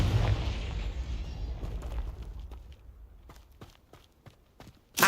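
A Confringo fire spell explodes in Hogwarts Legacy, opening with a loud booming blast that decays over a couple of seconds, followed by scattered footsteps and a sharp burst at the end.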